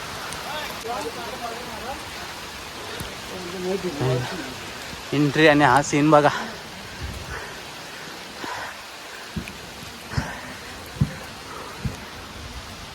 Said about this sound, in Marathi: पाऊस आला बरा पाऊस आला